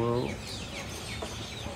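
Backyard chickens, three roosters and four hens, cluck; a short clucking call opens and quieter fowl sounds follow.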